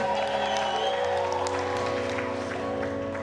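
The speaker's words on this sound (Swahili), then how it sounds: "Piga Yesu makofi mazuri." A church congregation at a Sunday service claps steadily and densely, with a sustained crowd noise and tonal music or voices beneath the applause.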